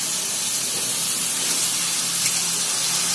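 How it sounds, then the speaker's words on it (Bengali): Papaya pieces hit a hot pan and sizzle, giving a loud, steady hiss that holds evenly throughout, with no talking. "দেখুন এবার আমি পেঁপেগুলো দিয়ে দিচ্ছি।"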